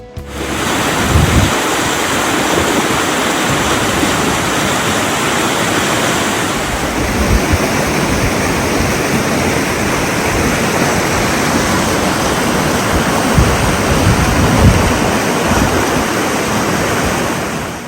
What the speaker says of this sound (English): you will cross the footbridge over the river